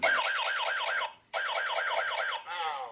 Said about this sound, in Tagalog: now look what you did. You've activated the alarm.